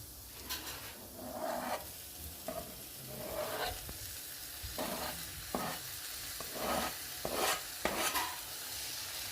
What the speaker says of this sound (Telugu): ఇప్పుడు మొత్తం కలిపి ఫ్రై చేసుకున్నాను.